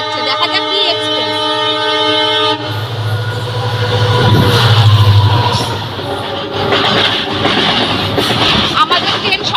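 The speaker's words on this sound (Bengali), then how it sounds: "পাশ থেকে তো এক্সপ্রেস পাস হচ্ছে" An express train rumbles past on the neighbouring track beside a halted train at Dalkhola station, with a sustained horn at the start and heavy rolling clatter that swells and stays close, while people talk nearby.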